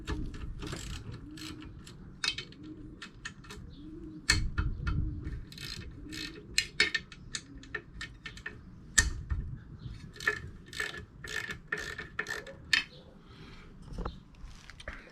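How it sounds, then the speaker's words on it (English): A ratchet cracks loose the outdrive leg bolts on a fishing boat, giving crisp clicking runs and sharp metallic snaps with irregular pauses, close up and fairly quiet. "I'll crack the leg bolts this side as well."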